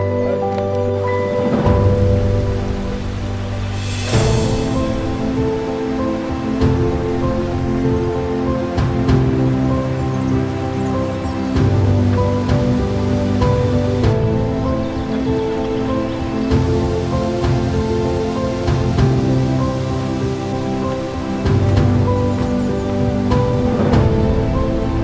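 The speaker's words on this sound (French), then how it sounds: "On longe les cascades" Waterfalls and cascades rushing through a rocky gorge on the Ravin des Charbonniers in the Caroux, a steady, loud, broadband roar of falling water with no break, and no voices.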